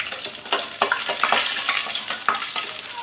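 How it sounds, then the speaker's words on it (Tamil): Fish frying in ghee in a pan, with a steady crackling sizzle broken by scraping stir strokes and light clinks of a utensil against the metal, close and fairly loud. "இப்போ இதை வந்து நான் வறுத்துட்டேன்னா நெய்யிலே வறுத்தாதான் நல்லாயிருக்கும்."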